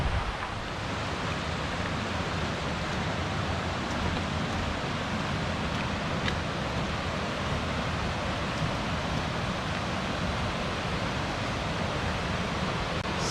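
Little River rushes beside a hiking trail in the Great Smoky Mountains, a steady, dense roar of flowing water that stays loud and unchanging throughout, with no voices.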